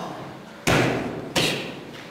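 Two sharp taekwondo kicks striking a pad, each a loud solid thud with a short decaying tail, spaced under a second apart.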